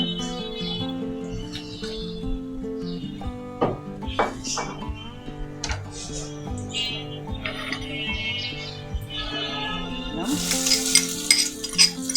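Onions frying in extra oil in a pan after fish, a loud continuous sizzle with stirring scrapes close by, brief chirps and a voice in the background, growing hissier at the end.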